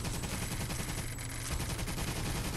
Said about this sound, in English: Level 2 machine gun.